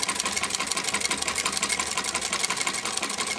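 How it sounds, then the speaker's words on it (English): A Singer sewing machine fitted with a servo motor runs steadily while stitching fabric, a dense, even whirring buzz close by that keeps going without a break. "We're going to sew onto it."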